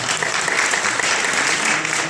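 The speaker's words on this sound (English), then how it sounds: "Yeah, you can clap." Audience at a gun control debate claps steadily and densely throughout, a full-room round of applause that stays loud and even with no break.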